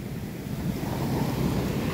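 Ocean surf breaks on a beach with surfers, fishermen and children nearby, a soft continuous wash of waves that builds slightly partway through, mixed with some wind rumble on the microphone and no voices.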